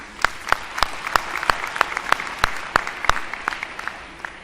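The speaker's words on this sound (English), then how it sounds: "Maybe we can give them a round of applause." A modest audience gives a round of applause for panelists at a technology conference, with a few distinct loud claps standing out rhythmically above the softer crowd clapping.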